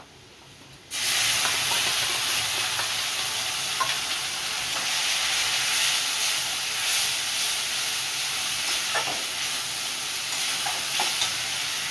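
Spices go into hot oil with fried onions and burst into a loud, steady sizzle after about a second of quiet. The hiss stays close and continuous, broken by a few faint stirring knocks.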